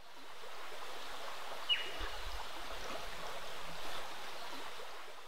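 Junee Cave Creek flows out of a cave opening in a steady, soft, even rush of running water, close by and unbroken, with no voices.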